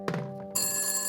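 An old telephone bell rings in a radio drama, a bright metallic ring starting up loud and sustained after a brief softer burst.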